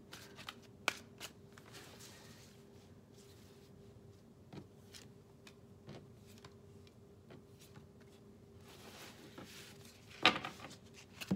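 Tarot cards shuffled by hand in a quiet room, with soft repeated riffling and snapping clicks at irregular intervals, including one sharper burst near the end.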